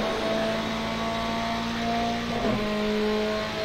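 Ferrari GTE race cars racing at Interlagos in iRacing, a steady close engine drone with sustained tonal whine and a brief pitch shift as cars run nose to tail.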